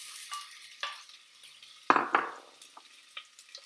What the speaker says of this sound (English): So step 3 is to gently fry off your onions and your garlic.